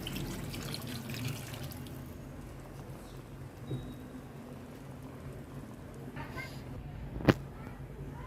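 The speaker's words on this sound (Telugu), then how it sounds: "పీతలు ముని మునిగే వరకు వాటర్ వేసానండి" Water is poured into a pan of crab curry cooking in masala, making a soft, steady running trickle at low volume, with a sharp clink near the end.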